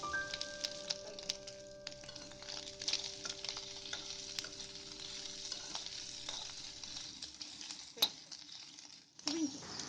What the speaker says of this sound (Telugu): ఇప్పుడు మనం ప్రాన్స్ వేపుకుందాం